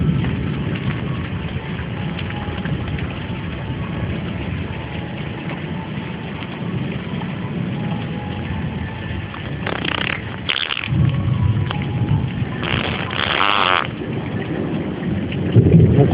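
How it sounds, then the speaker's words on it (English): A thunderstorm with steady heavy rain pouring loudly and low rumbling thunder beneath it, broken by a few brief high-pitched bursts near the end. "Especially not in the fucking thunderstorm and especially not in the fucking lightning storm."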